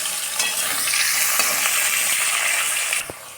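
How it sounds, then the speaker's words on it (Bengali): Cut potatoes fry in hot oil in a pan with a steady, loud sizzle, broken by a few scraping stirs from a spatula; no talking. "আলুটা আগে দিয়ে দিলাম, আলুটা একটু ভেজে নিব"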